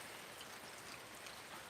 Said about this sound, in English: And today, of course, it wants to rain.